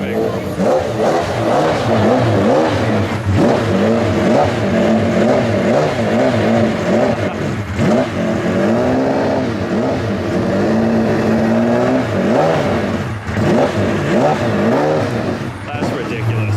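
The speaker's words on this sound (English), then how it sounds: "That's an F1 revving." An F1 race car engine revs repeatedly with loud, wavering rises and falls in pitch, heard near and continuous among a crowd of people, with voices talking underneath.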